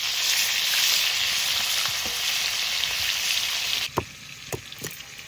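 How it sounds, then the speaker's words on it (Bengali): Small mourala fish frying lightly in oil in a pan: a steady, close sizzle that suddenly drops off near the end, followed by a few sharp knocks and scrapes as the fish are turned, with no speech. "মাছ বেশি কড়া ভাজা দেবো না, হালকা করে ভেজে নেবো। এবার মাছ উল্টিয়ে নিই।"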